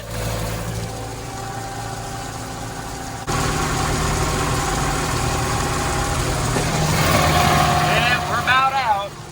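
A John Deere 6400-series farm tractor idles steadily at close range, its engine note growing louder partway through, with a brief higher whine near the end.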